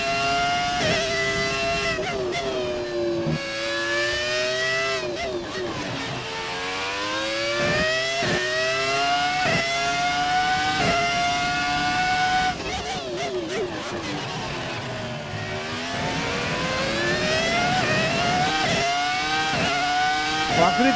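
A high-pitched Formula 1 car engine in the video game F1 2018 screams and revs repeatedly, pitch climbing and dropping through gear changes, loud and continuous with faint voices underneath.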